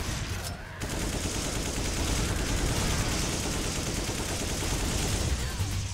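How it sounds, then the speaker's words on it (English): Dense, sustained automatic fire from an AK rifle in the survival-horror shooter Resident Evil 5, a loud continuous burst of rapid shots roaring for several seconds after a brief lull. "I'm gonna empty my AK into him"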